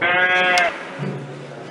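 A single sheep bleats loudly and close, a wavering nasal cry, followed by a quieter low tail of sound.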